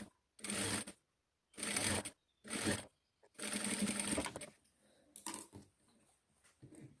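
A sewing machine stitches lace onto fabric in several steady whirring runs separated by short pauses, close and fairly quiet, with fainter handling noises toward the end.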